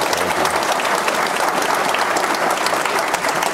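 Loud, dense audience applause at a Detroit Economic Club luncheon, a sustained roar of clapping from a large room that votes on whether an answer earns a prize.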